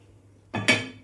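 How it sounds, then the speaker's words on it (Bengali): A single metallic clank as a pan is set down on a lit gas stove, followed by a short ringing clink, in an otherwise quiet room. "প্যানটা বসিয়ে দিলাম"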